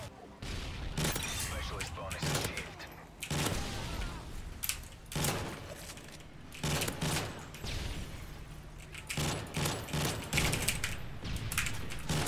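Burst rifle fire in a video game, rattling off in repeated short clusters of rapid shots throughout, fairly close, with game sounds mixed in.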